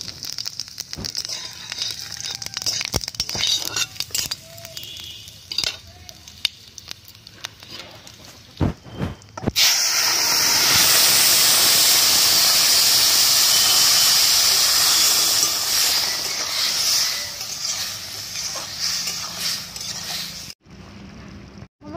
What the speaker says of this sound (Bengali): আমি ফোড়নের জন্য কিছুটা জিরে আর শুকনো লঙ্কা দিয়ে দিলাম।